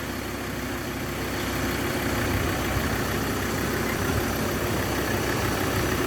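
Mazda BT-50 Pro pickup with a 3.2-litre engine idling steadily, a continuous close rumble with broadband mechanical noise that holds even throughout, no voices over it.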